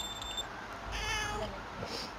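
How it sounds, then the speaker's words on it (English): A cat meows in the video game Hidden Objects The Big Journey, a short synthesized cry heard clearly and alone, with no talking. "That's a cat, but whatever."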